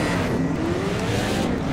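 Several race cars roar together at the start of a race in the Project Cars video game, a steady, dense wash of engine noise with a faint rising whine, loud and continuous throughout.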